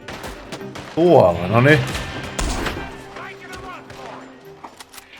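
Gunshots ring out in Red Dead Redemption 2: a few sharp, loud blasts spaced a second or so apart amid game noise, with someone talking over and between them.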